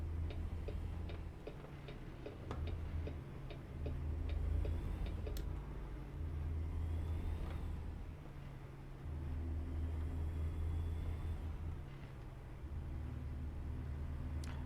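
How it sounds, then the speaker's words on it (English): Steady low truck engine drone in American Truck Simulator, a continuous rumble with slight swells in level and faint ticking over the top, no voices. "I really do like the sound of this truck."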